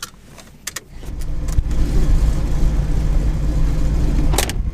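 A 1973 AMC Hornet idles and creeps in reverse into a storage building, a loud steady engine rumble after a few metallic clicks and clunks, with more clicks at the end.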